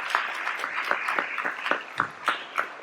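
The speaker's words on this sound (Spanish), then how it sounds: "denle fuerte el aplauso al Señor." Church congregation applause during a Spanish-language sermon: sparse, uneven claps spaced out over a few seconds, faint and somewhat distant, with no voices over them.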